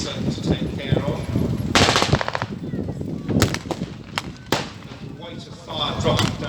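Gunfire at a Tankfest battle reenactment, sharp rifle cracks and machine-gun bursts ringing out irregularly across an open field, loud and close, with a voice talking over parts of it.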